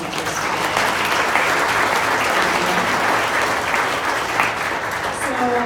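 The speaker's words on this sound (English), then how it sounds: "one more round of applause for our amazing presenters today" Audience at a Denver Startup Week pitch session applauding presenters, a loud continuous roar of clapping from a full room, sustained throughout with faint voices beneath.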